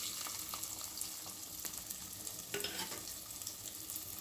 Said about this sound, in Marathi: कांदा असा परतून घ्यायचा आहे